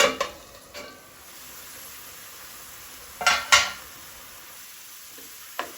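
Madi (taro) slices are turned in a frying pan: a few sharp clinks and scrapes of a utensil against the pan stand out over a quiet, low sizzle, with long gaps between the knocks.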